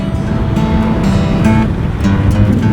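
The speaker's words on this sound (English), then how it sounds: "So another squall came." During a squall at a marina, waves wash and slap steadily against boats, a loud continuous rushing surf with a low rumbling undertone.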